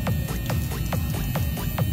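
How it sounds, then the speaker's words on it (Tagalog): Small electric motor of a homemade coin-operated water vending machine running on its cold side, a steady low hum with a repeating throbbing pulse roughly every half second. "Ito yung motor niya, oh."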